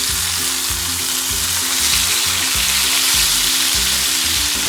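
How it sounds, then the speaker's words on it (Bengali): Eggplant slices fry in oil with a dense, continuous sizzle, loud and close, alongside a steady low hum and no talking. "সুন্দর করে বেগুনগুলো ভেজে নিতে হবে নরম করে"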